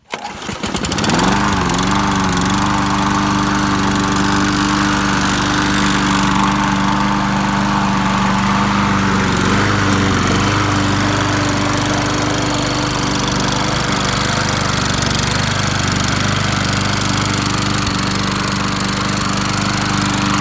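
A Craftsman lawn mower with a Tecumseh Vector engine starts and runs steadily, loud and close, its droning hum holding even for the full stretch with no talk.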